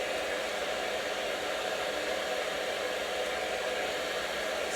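A hair dryer blows steadily and loudly up close while short hair is rolled on a brush and its ends are flipped up, a constant whooshing roar with no talking.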